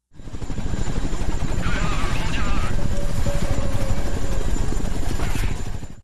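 Loud, steady Chinook helicopter rotor thudding and engine roar fill the whole stretch, close by, with faint voices mixed in beneath the noise.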